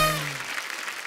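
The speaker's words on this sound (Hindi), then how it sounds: "जोरदार तालियां मेरे लिए।" A television comedy show audience breaks into loud applause, dense clapping starting strong and easing slightly as it carries on steadily throughout.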